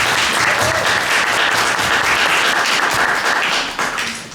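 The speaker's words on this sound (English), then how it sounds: "Can we just give a warm round of applause for Tiana?" An audience at an artist panel discussion in Providence gives a warm round of applause, a dense, loud, sustained wash of many hands clapping that tapers slightly at the end.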